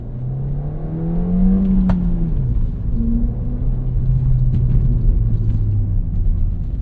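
Ford Fiesta ST engine revs up and eases off in a continuous loud drone, with pitch climbing and falling over several seconds, close to the cabin.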